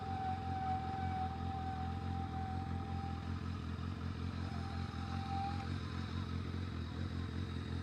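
Kawasaki ZRX1100 motorcycle engine while riding, a steady low droning hum with constant mechanical clatter and wind noise, continuous and even throughout.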